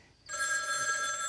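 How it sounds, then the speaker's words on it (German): An old-style telephone bell starts ringing abruptly after a brief silence, a bright continuous metallic ring that holds loud and steady, close up with no talk. "Oh, klingelt schon wieder."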